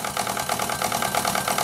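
Stuart D10 live steam water pump engine running at about 2 bar with the gas burner off, a steady close mechanical chuffing and clattering with a rapid even beat.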